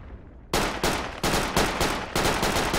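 Gunfire in the tactical shooter Project Reality during a Russian infantry push: a sharp onset followed by a series of loud, rapid bursts at roughly regular intervals, close and dense, with no talk.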